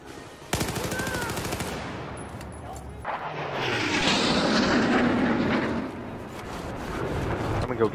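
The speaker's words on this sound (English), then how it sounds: "I'm gonna go get that plane." In an Xbox video game, an airplane engine roars past while bursts of rapid machine-gun fire crackle, and the engine drone swells and fades as the plane passes close by.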